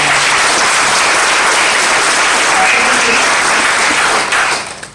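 A large training-event audience bursts into loud, sustained applause, a dense wash of clapping that carries steadily for several seconds before tapering off at the end.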